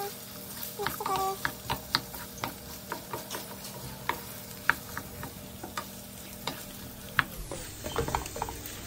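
Chorizo and potatoes sizzle over low-medium heat in a pan, with scattered sharp pops and crackles throughout, a steady fry underneath, and occasional utensil clinks.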